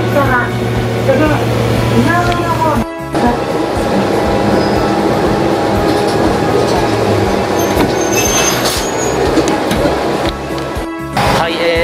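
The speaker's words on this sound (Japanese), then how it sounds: "次乗車するのは関西本線ではおなじみのキハ120なんですが" A Kiha 120 diesel railcar running as a single car on the Kansai Main Line at night, with a steady rumble of wheels on rails and motor noise, some squealing, and a passenger talking over it.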